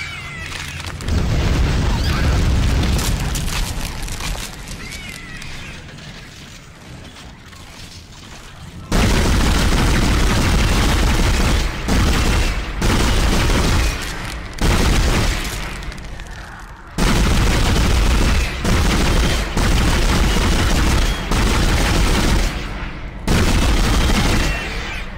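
Flame weapon in the game Dead Space fired at creatures, a loud continuous roaring blast in long sustained bursts broken by short pauses, with booming impacts and a voice talking over it.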